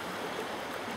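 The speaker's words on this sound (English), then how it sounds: "I'm along a local creek not far from town." A local creek near town flows steadily, a continuous close rushing and babbling of water with no voices.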